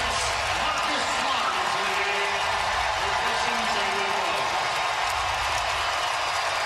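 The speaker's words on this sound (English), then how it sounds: "As a Huge crowd ovation" A huge arena crowd gives a standing ovation at a Boston Celtics basketball game, a dense, sustained roar of cheers and applause under a commentator's talk.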